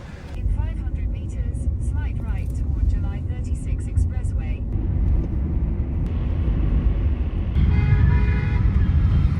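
An Uber car rolls through busy city traffic, a steady low engine and road rumble with horn toots and passing vehicles, a person talking over it early on.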